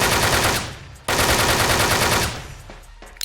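Automatic gunfire from the online shooter game Wolfteam comes as two dense, loud bursts of rapid shots with a short break between them, and a few fainter pops follow at the close.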